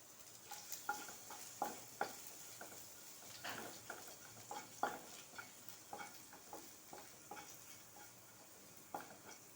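Ginger-garlic paste is stirred in a pan for a vegetable dish, with a spoon scraping and clicking in a steady stream of short strokes over a soft sizzle from the pan. Close and fairly quiet, with no voices.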